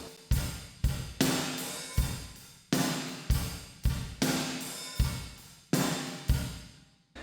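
A drum kit drenched in an exaggerated Waves Abbey Road plate reverb, sharp hits each followed by a long shimmering wash, repeating in a steady groove with no talking.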